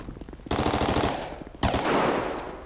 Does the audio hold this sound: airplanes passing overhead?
no